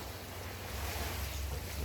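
Waves roll onto a beach at Port Antonio, Jamaica, a continuous soft surf wash mixed with gusty wind buffeting the microphone, fairly faint and steady, with no one speaking.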